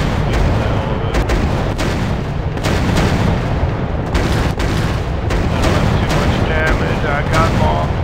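Bombs dropped from a WW1 warplane explode in the Warplanes WW1 Sky Aces video game, a dense run of loud booming blasts and gunfire-like bursts over a constant engine drone, with a voice talking over it.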